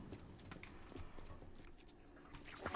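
Horse hooves in Zelda: Tears of the Kingdom, a rhythmic clip-clop of repeated hoofbeats at a steady gait, fairly quiet and close, with no voices.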